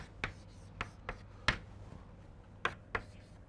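Chalk or marker writing symbols on a board during a lecture, several sharp separate taps and scratches spaced unevenly over a few seconds, close and clear with no voices.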